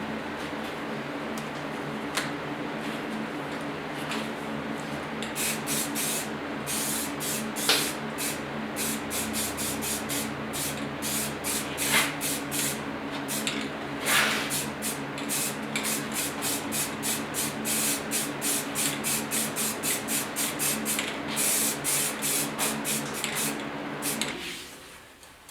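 A can of flat black spray paint hisses steadily for over twenty seconds over a welded steel bandsaw rolling base, with rapid ticking from the shaking can and a low mechanical hum underneath, ending abruptly.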